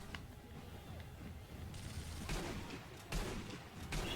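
Gunfire in the video game Sniper Elite V2, a few sharp cracks and bursts landing irregularly over quiet mechanical clicks and a low background bed.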